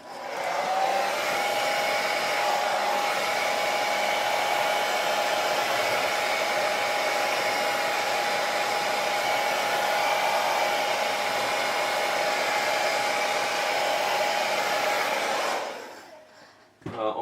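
A hair dryer heats a painted gold part before Aqua Gloss is applied, blowing as a steady, continuous whooshing roar for about fifteen seconds before it cuts off abruptly.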